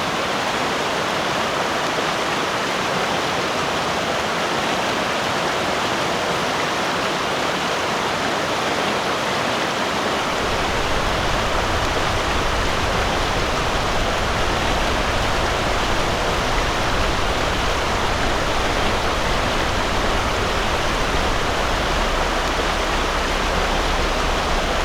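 Broadband pink noise used to enhance bass in sound design, a dense, steady hiss that rests on a thinner low end at first, then grows fuller and heavier in the bass partway through, continuous without voices.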